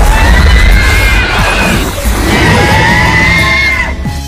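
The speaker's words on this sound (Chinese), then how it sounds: "打开后奇怪的声音发出剧烈的嘶吼声" A strange, intense roaring scream played back from a recorder, loud wavering cries that rise, dip briefly in the middle and resume, over a rough rumbling background.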